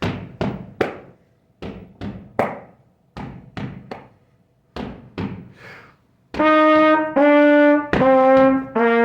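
A rhythmic stomp beat of thuds and knocks on the floor, then a trumpet plays the Blastoff song's held notes over it, loud and close with no talking.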